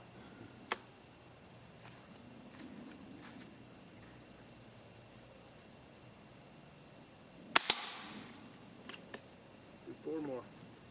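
AirForce airgun shots fired outdoors at a shooting range, a few sharp isolated cracks spaced seconds apart, one louder with a short tail, over quiet insect-filled ambience with people talking softly.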